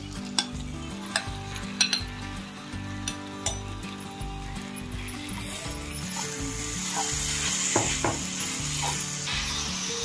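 Minced chicken keema hits hot oily masala in a pan and sizzles as a spoon stirs it, with rhythmic scraping clinks at first and the frying hiss swelling louder and steadier toward the end, close up with no talk.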